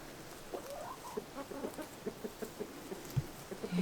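Chickens cluck softly in short, scattered bursts, close by and fairly quiet, with no talking.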